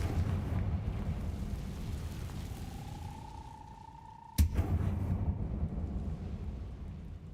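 A Confringo blasting curse in Hogwarts Legacy lands as one sudden explosive boom, preceded by a rising whistling tone over a low rumbling ambience that carries on after the blast.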